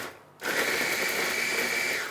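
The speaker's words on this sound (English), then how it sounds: "So put those things inside your blender" An electric kitchen blender switches on after a moment of quiet and whirs loudly and steadily, grinding chili, shallots and garlic with a little water into a paste, a close, even motor whine with a chopping rattle.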